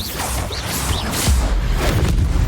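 A Bombarda spell blast in Hogwarts Legacy: a dense, loud explosive burst with crashing debris and whooshing noise, carrying a heavy low-end boom across the whole short stretch, with no talking.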